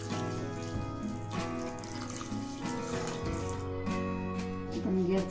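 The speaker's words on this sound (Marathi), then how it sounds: "त्यामध्ये आता साखर बुडेल एवढं पाणी घालायचं आहे" Water is poured from a kitchen vessel onto sugar in a pan to start a syrup for boondi ladoo, giving a soft, quiet trickle and splash under a steady background hum.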